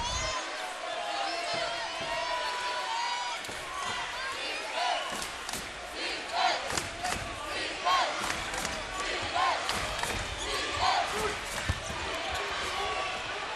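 Arena crowd at a Gonzaga at Loyola Marymount college basketball game murmurs and reacts with scattered shouts and boos after a charge call, amid sneaker squeaks and ball bounces, under a commentator's talk.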